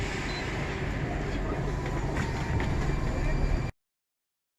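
A Moscow metro train rumbles loudly and steadily with a dense rattling roar, then the sound cuts off abruptly into silence.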